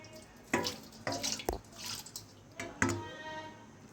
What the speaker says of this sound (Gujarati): આમાં હું છે ને થોડું પાણી નાખીશ.